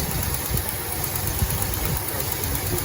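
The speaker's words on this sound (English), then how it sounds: "Got an exhaust leak. Yeah, I can hear it." A 1970 Ford LTD engine idles steadily with a rough, uneven low rumble and faint ticking puffs from an exhaust leak, running continuously at close range.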